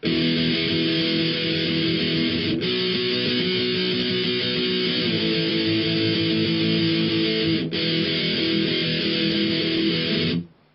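Distorted electric guitar power chords play the chorus of a song, a loud, continuous wall of strummed chords with two brief chord changes, then an abrupt stop, with no talking.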